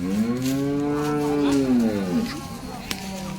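At the Baramati cattle market, a cow gives one long, loud moo close by, its pitch sagging toward the end, with faint background noise afterward.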